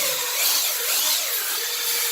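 A power drill whirs steadily while a spinning drill brush scrubs tile grout lines, a continuous close grinding rasp.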